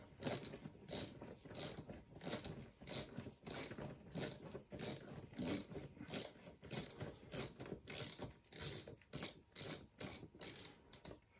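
A ratchet undoes a 10mm hose clamp on the air filter housing of a 2000 Toyota Sienna, its clicking coming in a steady series of short rhythmic bursts, close and crisp, with no voices.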